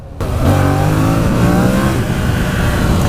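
Yamaha MT-07 motorcycle engine as the throttle is released while riding, a loud steady engine drone with falling tones, heard alone and close.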